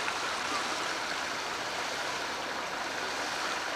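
Steady rushing of clear stream water flowing through a forest, a continuous broad wash of sound that stays loud and even throughout with no voices.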